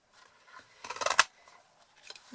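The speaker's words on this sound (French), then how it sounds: "j'ai décidé que j'allais utiliser ma perforatrice étiquette du quotidien" A paper punch cutting a message from white paper while making a card: a short cluster of crisp crunching cuts in the middle, with a few softer paper rustles before and after, close and alone.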